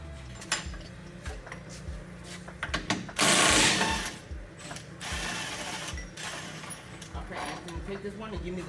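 Ratcheting wrench clicks and metallic clinks as bolts come out of a 2023 Toyota GR Corolla, close and busy, with a loud burst of noise partway through.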